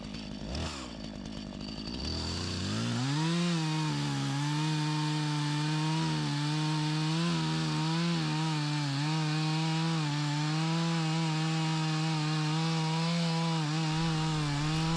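A chainsaw makes the back cut through a hard maple tree in snowy woods, a loud steady engine drone after a brief start-up, holding a sustained pitch under load with slight wavering throughout.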